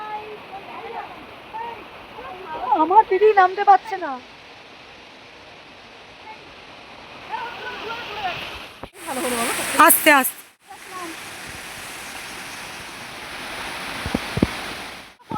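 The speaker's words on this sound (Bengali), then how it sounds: "এরপরেই আমরা চলে গেলাম রক গার্ডেন, যেখানে ঝর্ণা ছিল" Waterfall stream at Rock Garden, Darjeeling, a constant broadband rush of falling water close by that continues throughout, with people talking over it and louder splashy bursts partway through.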